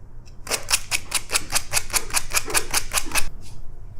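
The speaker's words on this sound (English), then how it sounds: "Sandpaper." Sandpaper rounds the corners of miniature tongs in about a dozen quick, evenly paced rasping strokes, close and fairly loud, lasting roughly three seconds.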